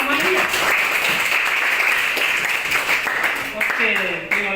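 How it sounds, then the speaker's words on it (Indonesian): Classroom students applaud a classmate with steady, dense clapping throughout, voices talking over it and a teacher's speech rising near the end. "Berikan tepuk tangan sama dia."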